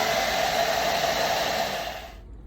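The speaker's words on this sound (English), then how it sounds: "now I'm going to use the blow dryer and start to speed up the process a little bit" A blow dryer runs close and steady, melting ice in a Samsung refrigerator ice maker with an even rushing whoosh. It cuts off near the end, leaving a faint hum.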